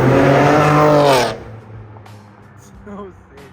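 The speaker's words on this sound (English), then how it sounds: "you can hear the intakes like super loud from the front" A BMW G82 M4 engine roars loudly through its front intakes, a rising, revving note for about a second before it falls away to a low idle rumble.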